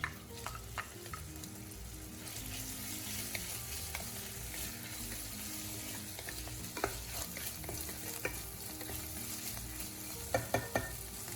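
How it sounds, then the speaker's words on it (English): Chicken sizzles and fries in a hot pan while a utensil stirs it, a dense steady crackle broken by repeated scraping clinks against the pan, close up with no talking. "Then add the chicken and stir briefly until the meat firms up slightly."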